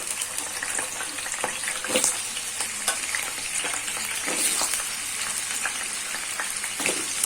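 Potatoes fry in hot oil in a kadai (wok) for a potol chingri dish. A dense, continuous sizzle with crackling spits and occasional stirring sounds runs close and steady, with no one speaking.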